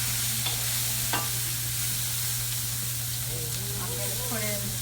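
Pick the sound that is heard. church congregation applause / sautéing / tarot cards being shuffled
sautéing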